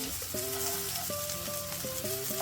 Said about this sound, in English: I'm going to stir fry that for about 3 to 4 minutes until it starts to look slightly translucent.